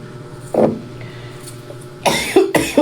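A person coughs in a kitchen while cooking chicken afritada: one short cough, then a burst of several harsh coughs close to the microphone over low background hum.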